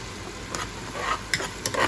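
Garlic frying in melted butter gives a steady sizzle, broken by a few short scraping stirs of a utensil in the pan, with no talk.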